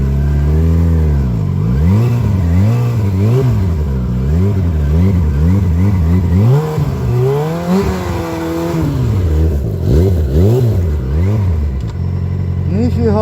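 A sport motorcycle riding on snow, its engine revving up and down repeatedly in loud, close, rising and falling sweeps.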